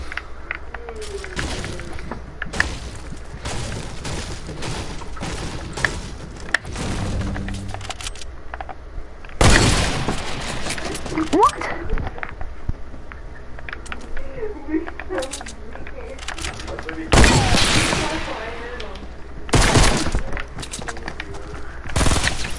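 Video game gunfire comes in several sharp, loud bursts spread across the stretch, separated by quieter game ambience, with a person talking excitedly between shots.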